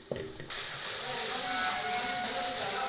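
Turmeric, salt, red chilli and chaat masala frying in a pan for gosht: a loud, steady hissing sizzle bursts in after a short quiet moment and continues evenly, close up.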